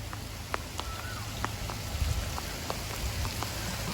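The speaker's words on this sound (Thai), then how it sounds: "ฝนก็ตกเป็นหย่อมๆนะครับ" Rain falls steadily outdoors at the Sdok Kok Thom temple ruins in Thailand, a constant soft hiss with scattered sharper drops ticking throughout.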